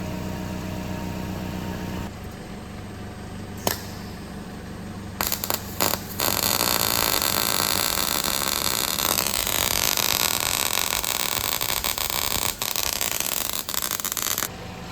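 Welding on the exhaust pipe of a 2009-2010 Toyota Corolla, a low steady hum gives way to a loud sustained crackling hiss with brief breaks, close and continuous.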